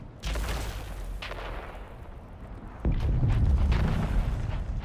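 Grenade blasts in Dune: Awakening, a deep rumbling boom swelling loud and staying heavy for a couple of seconds after a steady background roar.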